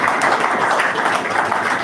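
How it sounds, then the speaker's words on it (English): Audience applause for the keynote speaker at a business ethics seminar award presentation: dense, steady clapping from a crowd, fairly close and loud, filling the whole moment with no talk over it. "Please let's give him a round of applause."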